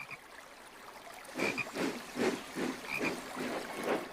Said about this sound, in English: he is very surprised to see a frog. A beautiful green frog.